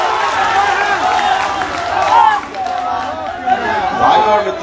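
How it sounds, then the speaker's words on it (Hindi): A large crowd at a political rally on an open club ground chatters loudly, with many overlapping voices and a few swells of cheering noise. "आज 2 कदम आगे बढ़कर इतनी भारी भीड़ है"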